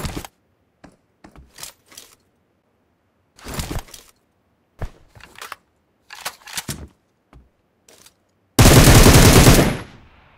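Gunfire in a shooter video game: scattered single shots and short bursts, some faint and some sharp, then a loud sustained burst of rapid automatic fire for about two seconds at the end.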